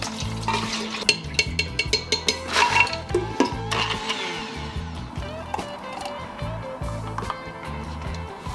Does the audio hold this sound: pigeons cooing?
no